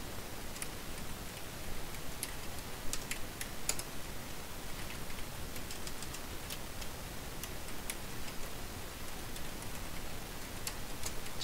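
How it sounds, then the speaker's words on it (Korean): Rapid, fairly steady typing on a computer keyboard while writing Oracle database code in Java Eclipse, the quiet clicks running continuously over a low background hiss with no talk. "좀 타자가 느려가지고"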